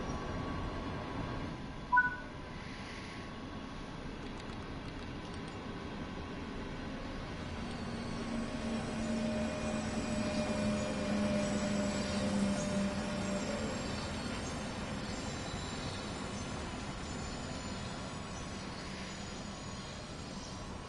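A train on the remastered Köln high-speed line in Train Sim World 6 begins to move, giving a low, steady rumble that rises slowly and stays faint and even across the whole stretch.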